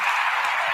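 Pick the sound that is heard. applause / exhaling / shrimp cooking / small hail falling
applause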